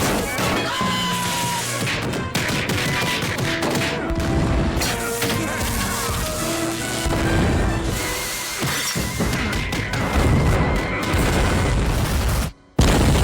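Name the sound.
cartoon explosions destroying a science center, Family Guy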